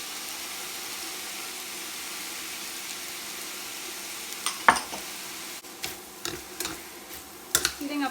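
Noodles heating in a hot stir-fry pan with a soy sauce, sake and sugar mix, giving a steady soft sizzle with a few sharp clicks and scrapes of stirring toward the end.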